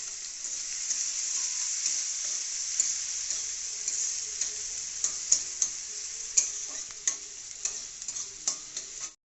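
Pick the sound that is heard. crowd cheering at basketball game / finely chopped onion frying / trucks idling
finely chopped onion frying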